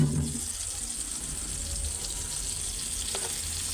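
Fish frying in a pan until lightly crisp, giving a soft, steady sizzle that carries faintly through the whole short stretch with no talking over it.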